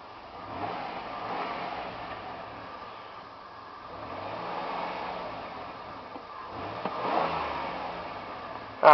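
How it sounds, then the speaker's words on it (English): A 2000 Dodge Caravan minivan engine revs up twice, rising and falling in steady swells, heard from nearby over a low idle. "Let's go ahead and see how she revs."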